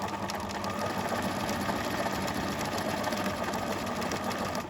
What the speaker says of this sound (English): I'm going to push this up, and I'm going to stitch at the same time and go back